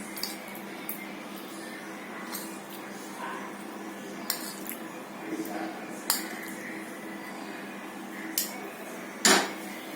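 A spoon stirs a bottle gourd dessert of condensed milk and crumbled milk cake in a pot, making soft squishing sounds with intermittent clinks and taps of metal against the vessel, one sharper knock late on, over a quiet room hum.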